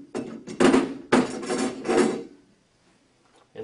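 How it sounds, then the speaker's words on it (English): Plastic lens sliding and clattering out of an LED canopy light fixture during a retrofit, a few close bursts of knocking and rattling, then near silence. "So now we're going to remove the lens."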